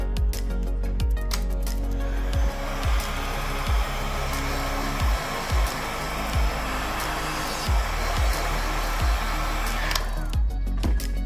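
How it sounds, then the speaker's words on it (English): A heat gun or hot-air blower runs steadily on a Samsung Galaxy S21 Ultra during a screen repair, softening adhesive. It gives a continuous close whooshing roar with a faint repeating click underneath, and no talk over it. "you can blow a little bit of heat in this area"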